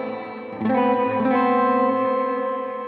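Sustained electric guitar chord through a Boss Katana 100 MK1 amp's reverb, ringing out with a lush reverb tail, a note struck about halfway in and decaying slowly, no voices.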